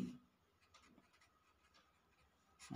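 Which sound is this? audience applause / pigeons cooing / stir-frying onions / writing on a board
writing on a board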